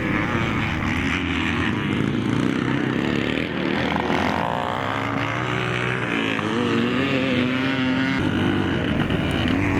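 Classic motocross bikes at a nostalgia scramble race toward the start-finish line, a continuous blend of revving two-stroke engines that rise and fall in pitch, steady and fairly loud, with a commentator's voice over the top.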